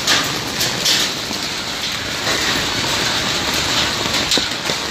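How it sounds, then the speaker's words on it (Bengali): Pouring rain mixed with heavy hail gives a loud, continuous roar of drumming impacts with sharp clattering hits throughout, close and unbroken, with no talking. "সিল কিন্তু এত পরিমাণে পড়ছে, আপনাদের শব্দটা শোনাচ্ছি"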